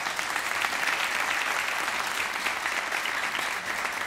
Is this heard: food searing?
no